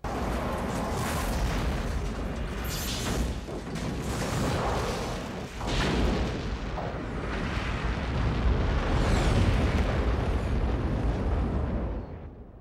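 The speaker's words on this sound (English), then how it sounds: "Maybe these two ships blew up the same way." A starship explosion from Star Trek Generations roars as a sustained, loud rumbling blast with swelling bursts and debris-like crackle, continuous across the whole stretch with no speech.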